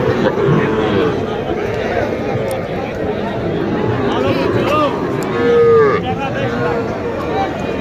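Cattle at a village cattle market moo repeatedly amid a noisy crowd, with loud nearby talk running underneath and several drawn-out calls standing out.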